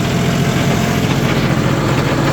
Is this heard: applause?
no